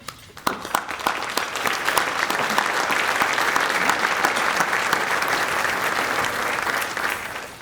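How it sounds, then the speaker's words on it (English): Luncheon audience at a youth awards event breaks into loud, sustained applause that builds quickly and holds steady for several seconds, with no voices over it. "please stand and let's give them a round of applause."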